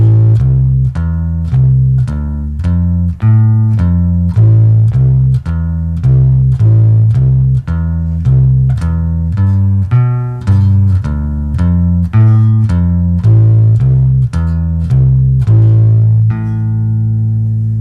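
Bass guitar picking a blues-style arpeggio, loud and close, steady repeating note patterns for about sixteen seconds before a final held note, with no voices.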